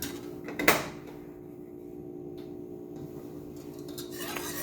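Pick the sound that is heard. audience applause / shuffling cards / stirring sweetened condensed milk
stirring sweetened condensed milk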